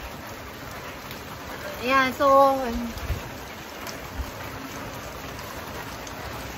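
Rain falls steadily outdoors as a constant, soft hiss throughout, with a person speaking briefly over it.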